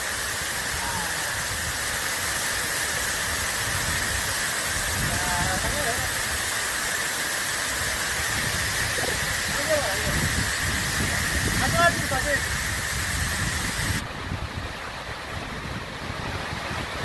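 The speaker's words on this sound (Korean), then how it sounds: "상운 폭포입니다." The Sangun waterfall in the Unmunsan valley near Miryang roars steadily in monsoon rain as a dense, unbroken rush of water, close and loud, with voices heard faintly beneath.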